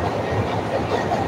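CTA Brown Line train in Chicago rolling along the track, a steady rumbling hum with faint rhythmic rail noise throughout, heard from inside a car and fairly quiet.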